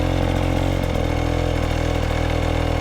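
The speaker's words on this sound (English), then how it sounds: "Listen to how consistent my motor sounds." An enduro motorcycle engine holds steady, even revs on a hill, a continuous close buzzing drone with no pauses or throttle changes, alone without voices.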